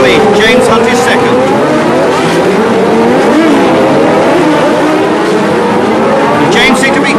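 1970s Formula One race cars howl through the tight hairpin at the Long Beach street circuit, engines rising and falling continuously with tire squeal, loud throughout with commentary over the racing.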